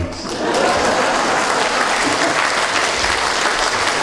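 Cabaret audience applause fills the room, a dense, steady burst of clapping from many hands that swells in and holds at full loudness.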